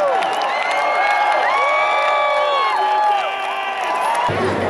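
A huge concert crowd of roughly 20,000 people roars and whoops after a set at Boston Calling 2022, a dense, sustained wall of cheering with shouted voices rising and falling throughout.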